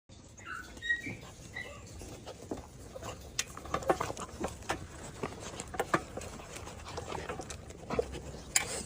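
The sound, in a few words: dog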